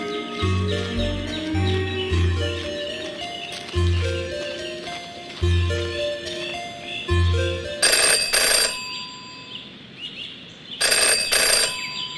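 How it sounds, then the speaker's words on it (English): A telephone rings inside the Jenny LeClue detective video game, sounding as a few repeated bursts of ringing over a musical background with melodic notes. "In her short time as a detective, Jenny had learned never to ignore a ringing phone."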